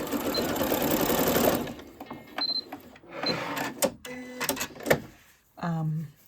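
A sewing machine runs fast and loudly through thick wool material for a steady burst, including backstitching, then stops. Scattered handling clicks and knocks follow.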